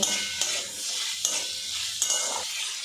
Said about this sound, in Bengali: ক্যাপসিকাম আর পেঁয়াজটা কিন্তু বেশ কিছুক্ষণ নাড়াচাড়া করে নিয়েছি